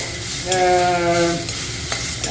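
Chopped tomatoes and slit green chillies sauté in a kadai pan for kadai chicken, giving a close, steady sizzle with stirring scrapes and a brief tonal scrape of the spatula midway.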